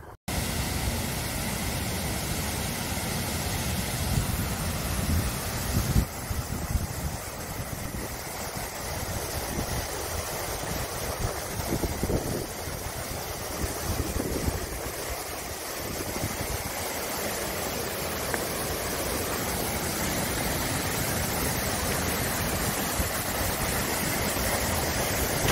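A waterfall on the Hwangryong River in Jangseong roars as a continuous broadband wash of rushing water, steady and fairly loud from start to finish with no voices.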